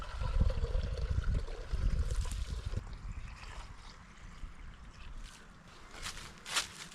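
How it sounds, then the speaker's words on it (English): Water bag being filled in a tannin-stained wilderness lake in the Boundary Waters, with gurgling, splashing water up close for the first few seconds, then quieter trickles and small drips. "So fill up the water bag."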